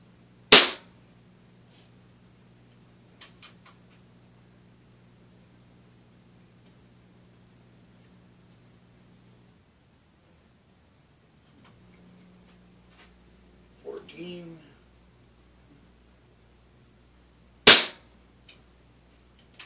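A Daisy air gun fires .22 wadcutter pellets, giving two sharp, loud isolated cracks far apart, with a few faint clicks and handling noises between them over a low steady hum.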